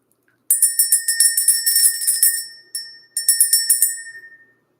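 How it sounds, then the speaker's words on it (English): A bell rings in a quick run of repeated bright strikes, then one short hit and a second burst of rapid ringing, loud and close with no talk over it. "let's go ahead and ring the bell."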